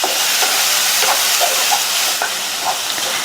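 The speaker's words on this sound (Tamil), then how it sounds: "2 நிமிஷத்துக்கு இதை வதக்கிக்கலாம்" A ground masala paste with asafoetida sautés in a pan with a steady, bright sizzle and soft stirring scrapes, close and continuous, with no talking.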